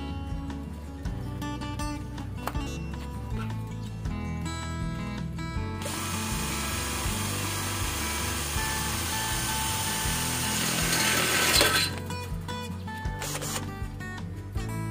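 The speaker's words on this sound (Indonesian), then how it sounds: "sekarang kita akan mengebor besi holo. Ini ukuran 1 mm ya, menggunakan mata bor besi ukuran 7 mm." Cordless 20-volt impact drill with a 7 mm iron bit boring into 1 mm hollow iron tubing: a steady mechanical whir with ratcheting pulses, then a harsher, louder grinding bite for several seconds before the motor spins freely again.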